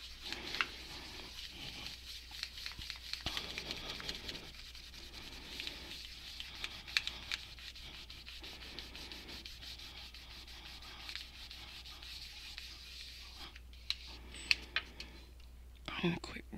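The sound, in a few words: burnishing metal with a piece of scrap card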